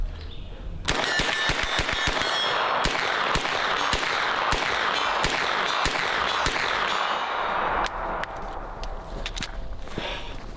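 Rapid bursts of H&K MP5 submachine gun fire, loud and close, sharp cracks in quick strings with brief pauses between them, ringing on at an outdoor range.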